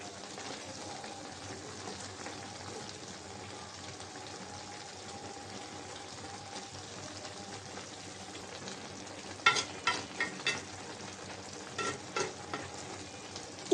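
Hilsa fish curry with water lily stems simmers at a boil and is gently stirred. A soft, steady bubbling runs throughout, then close scraping strokes of a spoon in the pot arrive in short bursts near the end.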